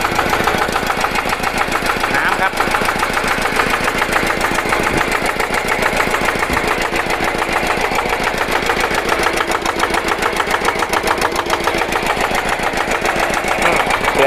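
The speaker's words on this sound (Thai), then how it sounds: "เครื่องยนต์ครับ" A used diesel tractor engine idles steadily nearby, a loud rhythmic chugging knock that stays constant throughout without pause.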